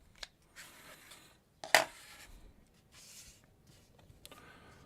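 A blade trims a quilt fabric strip along a ruler edge, with faint rubbing and shifting before one sharp, bright cut near the middle and quiet handling afterward.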